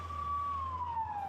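An ambulance siren in Gaza carries from a moderate distance as one sustained tone that slowly falls in pitch, with the low rumble of an engine beneath it.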